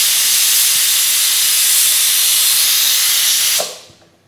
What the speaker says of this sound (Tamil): இப்போ குக்கரை மூடிட்டு ஒரு விசில் விட்டுடலாம்